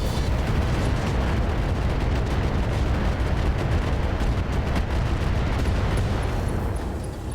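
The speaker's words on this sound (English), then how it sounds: "we're going to fire on this guy with AX rounds" A mech in the game RogueTech fires AX rounds in a dense, continuous barrage of loud booming gunfire and blasts that fill the whole stretch without a break.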